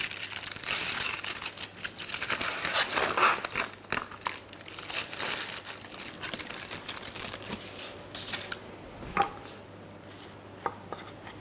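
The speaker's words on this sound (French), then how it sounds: "il nous reste à découper le magret" A knife slicing through cooked duck breast (magret) on a board, with soft crackling cuts and crisp skin crunches in an irregular rhythm, close and quiet, no voices.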